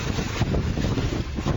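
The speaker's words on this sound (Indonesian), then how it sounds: "video amatir warga yang merekam detik-detik angin puting beliung menerjang pemukiman warga" A tornado's wind tears through a residential area of Tompo Kersan, Lumajang, East Java, a loud, constant roar that buffets the microphone with heavy rumbling gusts and no voices.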